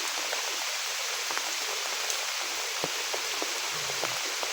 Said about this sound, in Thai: ฝนตกนี่บ่หยุดเลยพี่น้อง